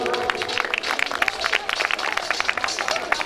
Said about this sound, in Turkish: Ben Efe'ye kocaman bir moral alkış istiyorum